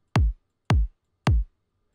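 Three evenly spaced kick drum hits, each punchy and close with a short small-room reverb tail, separated by silence.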